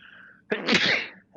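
A single sharp sneeze bursts out after a brief quiet intake, loud and close, with a faint breathy tail afterward.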